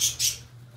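A small bird gives two quick, shrill chirps close by while a kitten tries to play with it, the calls sharp and bright against a quiet indoor hum, with no talking.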